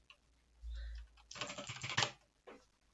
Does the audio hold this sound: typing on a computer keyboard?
yes